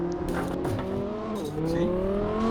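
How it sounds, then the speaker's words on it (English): Simulated car drifting in the Assetto Corsa racing game, with a steady engine drone and gliding pitch sweeps as the tires squeal through a slide, sustained and loud for the whole stretch. "I would drift when I want to."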